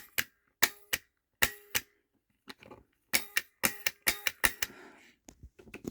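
Merlin Gerin TL 16A Multi 9 impulse relay switching as its pushbutton is pressed: sharp, close mechanical clicks in irregular bursts, some in quick pairs, with quiet handling noises between and no speech.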